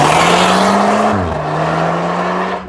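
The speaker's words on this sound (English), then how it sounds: "Wide open throttle outside." A 2015 Volkswagen Golf R with an Invidia Q300 catback exhaust pulls hard at wide open throttle, a loud close drone climbing in pitch before a quick shift drop and a renewed steady pull, with no voices.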